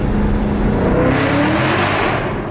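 A supercharged Ford Mustang with a new exhaust revs loudly nearby, a deep throaty roar that rises in pitch and falls back over a couple of seconds, with no voices.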